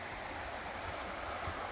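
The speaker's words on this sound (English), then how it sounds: "This is old grown creek due to the last few days of much needed rain here in middle Georgia." A small creek in middle Georgia runs swollen after several days of rain, giving a steady, even rush of flowing water that stays faint and unbroken throughout, with no voices.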